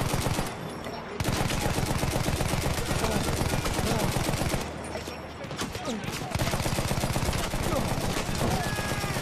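Dense battlefield gunfire from Battlefield 1: continuous rapid shots and machine-gun bursts layered with explosions, loud and nearly unbroken across the whole stretch.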